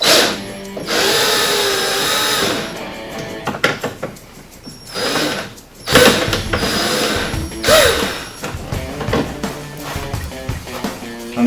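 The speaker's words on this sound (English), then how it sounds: "take your Torx bit to remove the screw" A power driver with a Torx bit backs a screw out of a Racer Tech lift kit fitting on a RZR off-road vehicle, whirring in several bursts with short pauses between, close and fairly loud.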